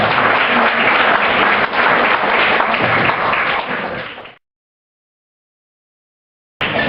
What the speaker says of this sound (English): Give another round of applause to TF Tire